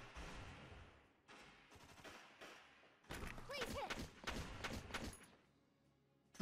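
Gunfire in the video game Valkyria Chronicles, a rapid series of shots and thuds building into a denser, louder volley, heard without talk.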